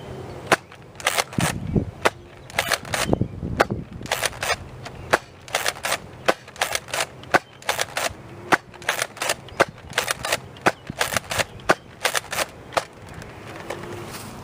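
A Nerf Sling Fire blaster fires foam darts, and each shot gives a sharp, close snap along with the clack of the lever action. The shots come in quick clusters with brief gaps for reloading over a faint room background.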